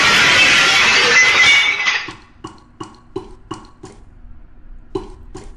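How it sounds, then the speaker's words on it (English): Glass smashes in the video game Garden of Banban: a loud, dense shattering burst lasting about two seconds, followed by a series of faint, sharp tinkling and clinking impacts as pieces fall. "And smash the glass."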